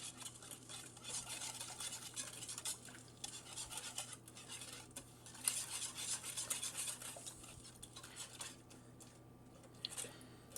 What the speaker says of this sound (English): We'll give it an initial little stir here.